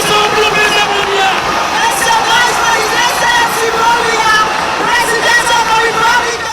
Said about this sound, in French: Applaudissons pour le président Paul Biya.